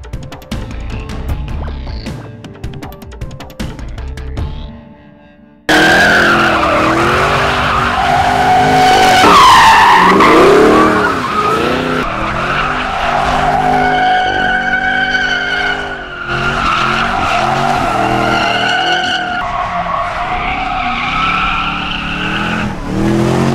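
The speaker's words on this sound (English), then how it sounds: "So now we make our own fun on the way home, right? Burnouts and donuts." A 2013 Shelby GT500 and a 2012 Camaro ZL1 do burnouts and donuts, with loud sustained engine revving and shrieking tire squeal that rises and falls for about twenty seconds after a quieter opening.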